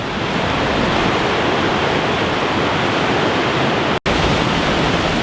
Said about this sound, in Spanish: Se ve el río cada vez con más fuerza